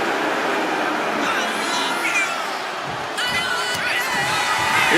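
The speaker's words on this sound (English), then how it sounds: "And Mark is really getting the crowd going." A video game arena crowd in WWE 2K25 cheers and roars continuously at moderate loudness, with commentary voices running over the noise.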